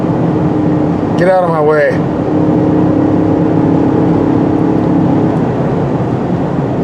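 Inside the cab of a 2019 Ford Ranger Crew Cab 4x4, the turbo four-cylinder engine holds a loud, steady drone while climbing a steep grade, with road and wind noise throughout and someone briefly speaking over it.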